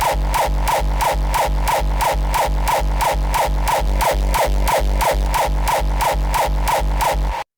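A hardcore kick drum processed with a parallel patcher thumps in a fast, relentless loop of about three hits per second, each with a deep booming low end and a bright crunchy distorted attack, loud and alone.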